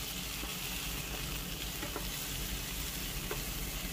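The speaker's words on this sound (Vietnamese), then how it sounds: "mình sẽ xào cho cà chua nó chín" Tomatoes stir-frying in a hot pan for a vegetarian sour-spicy straw mushroom hot pot, a steady, loud, close sizzle with a few faint clinks of stirring and no talk.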